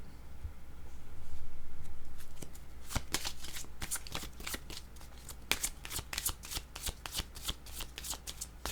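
Tarot cards are shuffled close to the microphone: a soft sliding rustle first, then a fast series of crisp riffling flicks and snaps that continue to the end, with no speech.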